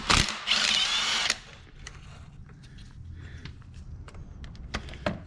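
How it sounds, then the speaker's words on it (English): A ratchet loosening 15mm starter bolts on a Chevy Malibu, starting with a loud, dense burst of rapid clicking, then sparse scattered metallic clicks and taps as the bolts come free, close and without talk. "now we remove the starter bolts right here and right here. They are also 15mm bolts"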